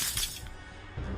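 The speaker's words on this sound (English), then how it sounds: "until it shattered like glass" Glass shatters in one loud, bright crash, and the breaking debris rings on briefly after it with no voices over it.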